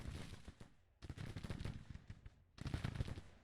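Civil War infantry rifle fire in Grand Tactician The Civil War: three dense bursts of crackling musketry volleys, each a rapid overlapping rattle of many shots, separated by short pauses, fairly close and without voices.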